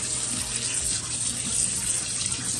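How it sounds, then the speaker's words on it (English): Cold tap water runs steadily over oysters in a sink, a continuous splashing rush with no talking, close by and fairly loud throughout. "I'm gonna run cold water on them just to wash a little bit"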